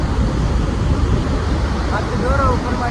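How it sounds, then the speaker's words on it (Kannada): Water rushes through the fully opened gates of the Hidkal dam in a powerful, steady roar, close and loud, while a few faint voice-like tones rise over it near the end. "ಫುಲ್ ಓಪನ್ ಮಾಡಿದಾರೆ ಎಷ್ಟು ನೀರು ಬಿಟ್ಟಾರಂದ್ರೆ ಭಾಳ ಗಟ್ಟು ಬಿಟ್ಟಾರೆ"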